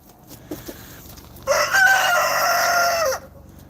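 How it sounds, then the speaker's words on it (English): A rooster crows once, loud and close, in a backyard flock of hens and young roosters, a sustained call of about a second and a half standing alone after some faint clucking. "There's one of my roosters."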